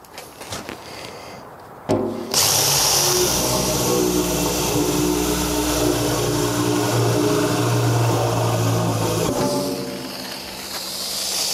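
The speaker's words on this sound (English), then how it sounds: "now we're ready to drill" A power drill whirs loudly and steadily for several seconds, close by, then winds down and stops.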